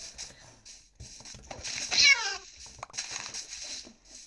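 A cat meows clearly in a video game, a rising then falling cry near the middle, over quieter game-like background sounds.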